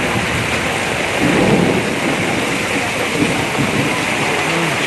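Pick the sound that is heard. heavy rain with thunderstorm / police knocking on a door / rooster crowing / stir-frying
heavy rain with thunderstorm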